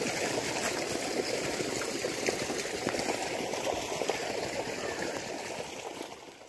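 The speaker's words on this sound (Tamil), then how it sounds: "நீர் பாய்ச்சல் சமமாக" Irrigation water runs through a farm channel beside bird's eye chilli plants, a steady close rushing and trickling flow that carries on evenly with no talking.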